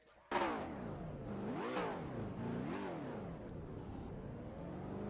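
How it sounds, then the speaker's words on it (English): Race car engines in NASCAR Racing 2003, Xfinity cars at Dover, fire up abruptly together and settle into a loud, layered idle with repeated revving swells that rise and fall throughout. "Drivers, start your engines!"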